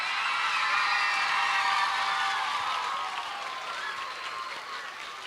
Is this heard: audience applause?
yes